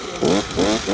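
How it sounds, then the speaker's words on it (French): A Shindaiwa EB 2510 Turbo leaf blower engine runs loud and close, surging in two quick revving pulses over a steady buzzing drone. "Cette fois on est sur un souffleur."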